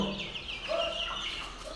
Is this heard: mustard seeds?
no